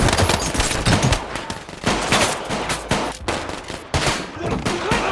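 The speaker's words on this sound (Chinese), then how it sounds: "然后老鹰立刻就是一波扫射" Automatic gunfire from robbers firing on a police car in a film about a real robbery case: dense, loud bursts of rapid shots in close succession, with brief breaks between volleys.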